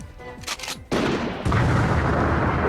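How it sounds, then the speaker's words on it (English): In the PS Vita video game Code: Realize, a sharp burst of gunfire erupts, followed by a heavy, sustained rumble like an explosion, loud and continuous to the end. "There is a sudden gunshot, and Noite is caught in an explosion."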